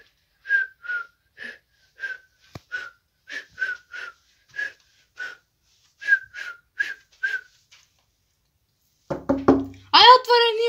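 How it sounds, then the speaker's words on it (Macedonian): A whistle blown in a rapid string of short, sharp shrill blasts, a dozen or so evenly spaced chirps, followed by a brief burst of louder, rougher noise at the end. "Ева го сега си свирката му."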